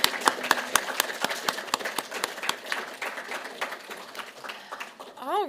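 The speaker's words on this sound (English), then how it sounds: "Let's give one more round of applause for Dr. Jacobs." Seminar audience giving a speaker a final round of applause, scattered distinct claps with a rhythmic quality ringing out in a reverberant room, fading toward the end as a voice starts to rise.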